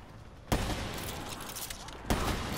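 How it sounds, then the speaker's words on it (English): Sniper rifle fired at zombies in Call of Duty: Black Ops III, two sharp loud shots about one and a half seconds apart, each followed by a lingering rumble. "I'm just randomly no scoping these zombies with this sniper."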